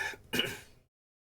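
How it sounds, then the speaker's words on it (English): A person clears their throat with a short rasp, then a second, louder gravelly clearing that fades out, close to the microphone, after water went down the wrong pipe. "it wouldn't be one of my streams if I didn't cough half to death"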